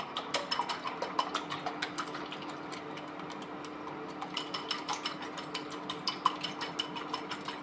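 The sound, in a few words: whisking eggs with a whisk for an omelette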